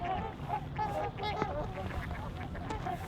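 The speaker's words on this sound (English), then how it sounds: "I'm going to stick around and watch a few more of these swans take off" Swans honk repeatedly in a wintry setting of sub-zero temperatures as they take off and land, their nasal calls overlapping at moderate distance over a steady outdoor rumble.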